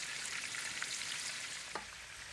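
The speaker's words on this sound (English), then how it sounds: "Then I add prawns one by one in the heated oil." Marinated prawns fry in hot mustard oil with a dense, steady sizzle, broken by a couple of brief sharper crackles as the pieces settle in the pan.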